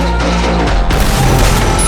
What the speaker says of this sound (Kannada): Gun mistake. ಡಬಲ್ ಶಾಟ್ ಹೋಗ್ಬಿಡ್ತು.